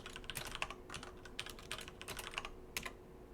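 Quick keystrokes on a computer keyboard, close and fairly quiet, tapping in irregular bursts of clicks with no talking.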